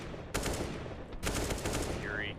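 CS:GO gunfire in a professional ESL Pro League match sounds as two dense bursts of rapid shots, the first sharp and sustained, the second following after a brief lull, over a busy game background.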